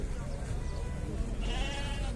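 Sheep bleat amid the bustle of the Maştağa livestock market, a steady crowd din with people talking close by throughout.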